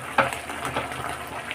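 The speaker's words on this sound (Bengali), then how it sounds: "এবার হাই ফ্লেম করে ঢাকা দিয়ে ভালো করে আমি মাংসটাকে একটু ফ্রাই করে নেব।" Meat fries in a covered pan over a high flame, a steady close hiss and crackle that continues throughout with small popping spurts.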